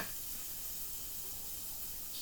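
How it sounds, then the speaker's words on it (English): Chicken pieces for a tagine sizzle in a hot pan, giving a steady, even hiss that stays close and constant throughout with no talking. "Just turn it up a tiny bit because I want to hear more of a sizzle."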